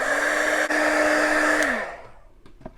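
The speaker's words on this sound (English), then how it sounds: "I'm going to dry this real quick again." A hair dryer blows steadily on a painted flower garland, a loud close whirring drone that cuts off partway through and leaves faint handling noises.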